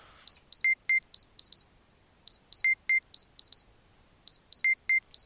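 Cthulhu chord-sequencer plugin in Logic playing a synth chord pattern shifted up an octave: bright, piercing beeping stabs in short rhythmic clusters separated by gaps, clear and close with no voices.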